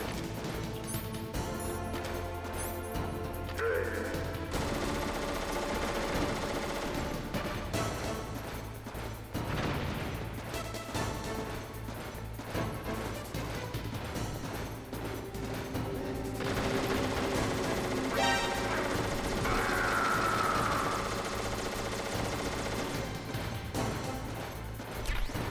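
Gunfire in the Metal Gear Solid game during the final fight against Metal Gear: repeated shots, heavy crashes and impacts rattle on continuously over tense game music.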